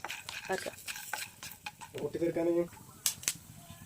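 Corn kernels in a hot, heavy-bottomed pan just beginning to pop, with a handful of sharp, scattered cracks and light crackling up close amid soft stirring and a brief voice.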